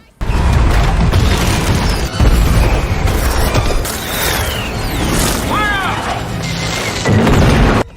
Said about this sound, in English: The fireworks go off, serving as a distraction against Ezekiel.